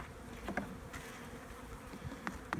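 Honey bees buzz steadily around an open hive during a hive check, a dense close-up drone with individual bees zipping past the microphone now and then.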